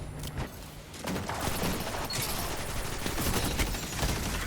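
Rapid gunfire from a Destiny 2 PvP match, a dense loud barrage of shots and bursts continuing throughout with booming impacts, close and intense, no speech.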